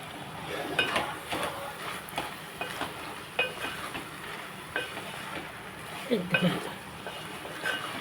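Spoon scraping and clinking in a pot of amaranth leaf curry soured with tamarind, stirred in uneven strokes with a few sharper metal knocks, under a steady kitchen background hum.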